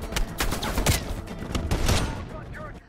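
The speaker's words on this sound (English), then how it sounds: "shoot this guy" Gunfire in the Call of Duty Black Ops Cold War video game: a quick burst of several loud, sharp shots in close succession with game ambience beneath.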